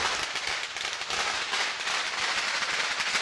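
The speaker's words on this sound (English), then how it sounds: "I think the Vancouver Fire Department were able to help out with lighting those firecrackers." Firecrackers go off at a Chinatown New Year parade in Vancouver, a dense, continuous crackling barrage of rapid pops, loud and close.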